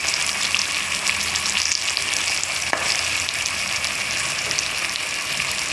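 Gooseberries frying in a pan with salt and asafoetida give a steady, close, dense sizzle and crackle throughout, with one brief sharp tick partway through and no talking.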